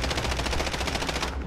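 Rapid automatic gunfire in the shooter game Call of Duty: Modern Warfare: a loud, evenly spaced burst of about a dozen shots that runs without pause and is heard alone.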